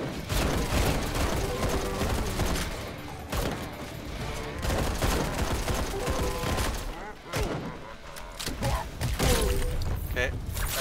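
Dense gunfire from the Raiders of the Broken Planet video game clatters throughout with rapid shots and impacts, while a voice talks over the steady din.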